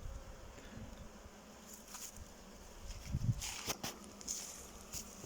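Honey bees buzz softly around an open hive in an apiary, a steady low drone with occasional louder passes near by, mixed with faint rustling and handling noises.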